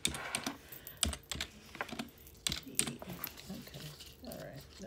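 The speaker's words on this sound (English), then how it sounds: "Let's type this right quick." Someone types quickly on a computer keyboard, with bursts of close clicking keystrokes, irregular and fairly quiet, while a person talks now and then over the typing.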